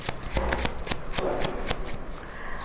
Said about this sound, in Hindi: I would pull 5 cards. मैं 5 कार्ड्स निकालूंगी।